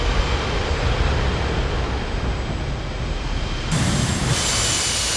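Loud, steady roar of an F/A-18 jet engine at full throttle in the flight simulator DCS, a dense broadband rumble that holds throughout, with a brief brighter shift near the end and no voices.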